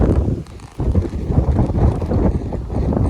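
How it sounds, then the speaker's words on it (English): Gusty wind in Sydney, Australia buffets the microphone in a loud, low, continuous roar, easing briefly before picking up again. "It's so windy."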